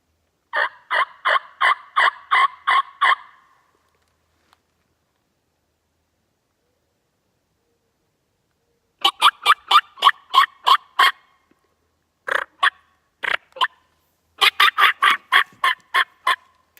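A wild turkey gobbles out in the open: a rapid burst of throaty gobbles, then a long silence, then several more bursts of gobbling, clear and fairly close.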